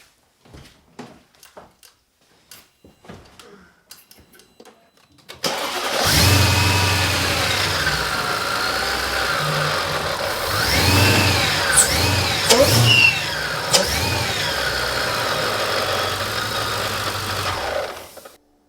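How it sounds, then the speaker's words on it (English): A Mercedes E55 AMG with a supercharged M113K engine, fitted with rebuilt motor mounts, cranks and fires up after a few quiet clicks, then settles into a loud, steady idle with brief revs, close by and alone. "so I'm going to go fire up the car now"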